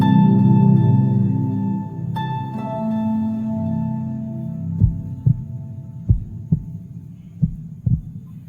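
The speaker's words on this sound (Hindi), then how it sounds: "मगर दिल की धड़कन तो वही है" A heartbeat thumps in a slow, regular series of deep pulses that rise out of a fading musical hum.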